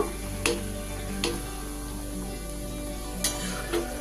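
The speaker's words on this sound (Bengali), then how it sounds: "ভেজে রাখা পনিরের টুকরোগুলো দিয়ে দিলাম, হালকা হাতে মিশিয়ে দেব।" Fried paneer pieces gently folded into a cauliflower and capsicum curry, a soft continuous sizzle under four brief sharp scrapes of the spoon against the pan, spaced irregularly, with no talking.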